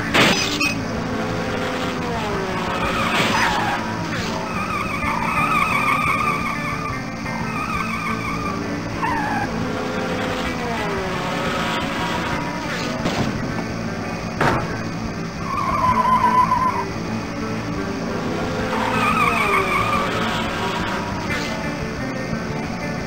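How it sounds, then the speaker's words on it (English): Racing car engines rev and whine with tyres skidding at a race start in the Putt-Putt Enters the Race video game, a steady electronic-sounding game mix with rising and falling engine pitches throughout. "Contestants, start your engines."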